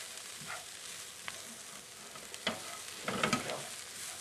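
Vegetables being stirred in a soup pot with dried thyme, soft scraping and clacking of a spoon over a low sizzle, with a few louder scrapes near the end, quiet and close.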